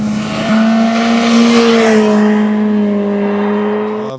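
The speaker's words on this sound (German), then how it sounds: "bei Naked Bike haben wir sogar einen sehr offenen Akrapovic-Endtop montiert" A loud, close BMW S 1000 R naked-bike engine with an open Akrapovic aftermarket end can holds a high steady revving tone with a raspy, open exhaust note, easing slightly toward the end, with no voices.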